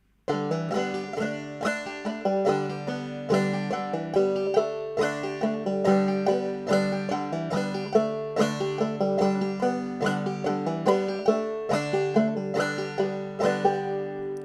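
A clawhammer banjo plays a simple, bright melody in steady notes played straight without syncopation, with a driving even rhythm, close and unaccompanied.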